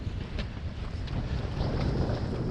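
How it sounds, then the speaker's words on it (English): Steady wind pushing a small sailboat on a downwind run, loud gusty rushing across the microphone with water and hull noise beneath, continuous and close. "We've got a steady push there with the wind."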